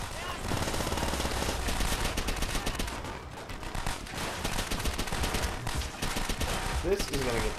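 Automatic weapons fire rattles in Call of Duty: World at War, dense bursts of machine-gun and rifle shots overlapping almost continuously, loud and close, with a player talking over part of the barrage.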